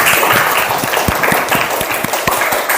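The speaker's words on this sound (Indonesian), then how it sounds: "Tepuk tangan dulu." A classroom of students claps loudly for the best-performing group, a dense, steady burst of many hands close by, lasting a few seconds without speech.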